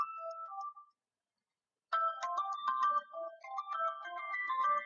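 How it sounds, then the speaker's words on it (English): A mobile phone plays a bright electronic melody ringtone, stops for about a second, then starts again with a busier chiming tune, close and clear with no talking. "It's still ringing."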